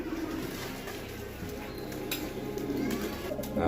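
Pigeons cooing softly nearby, low repeated calls over a faint background with a few light clinks.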